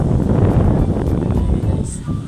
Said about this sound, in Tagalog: Ang kalaban natin malakas ang hangin.